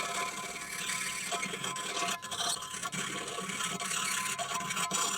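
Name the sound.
hand filing a metal part with a file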